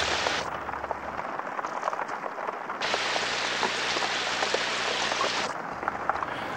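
Heavy rain pours down in a steady, dense hiss of drops striking the ground, continuous and fairly soft in level, with no voices.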